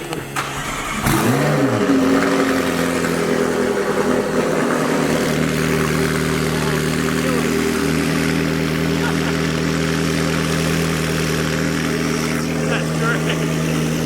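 A car engine cranks and catches, revving up loudly before holding a steady, heavy idle with occasional blips, close and continuous.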